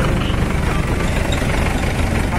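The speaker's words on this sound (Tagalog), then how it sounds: "4JB1 ang makina nitong Photon na to" A 2015 Foton Photon truck's 4JB1 diesel engine, started after more than a year of sitting, runs with a dense, steady low rumble and rattle, close and loud.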